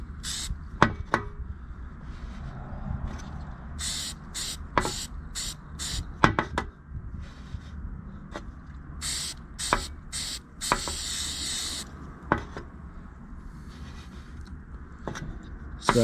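Oil is sprayed onto a cotton K&N air filter in short separate bursts, giving repeated quick hissing sprays at irregular intervals over a continuous low background rumble.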